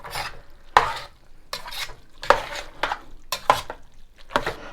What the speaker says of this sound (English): See the burn bits? Add your beer there.